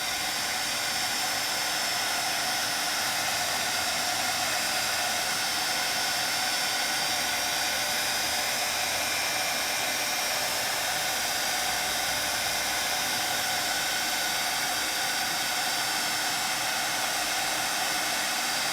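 An embossing heat tool runs steadily for the whole stretch, melting Tim Holtz embossing glaze powder with a loud, even, breathy hiss like a hair dryer, close up and with no talk over it.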